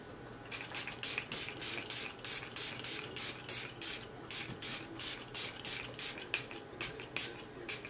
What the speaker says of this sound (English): spray my face with this one